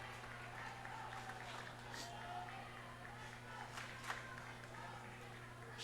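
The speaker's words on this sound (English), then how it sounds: "Crowd cheering her on." A crowd at a girls' high school state swimming and diving finals cheering a swimmer, a steady distant roar of voices and shouts echoing through the natatorium over a constant hum.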